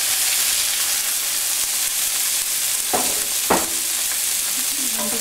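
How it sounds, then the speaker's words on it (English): Diced potatoes with red chili flakes fry in a pan with a loud, steady sizzle, broken by two sharp utensil scrapes or knocks and a faint voice near the end. "I'm going to fry this for about a minute or 2 minutes"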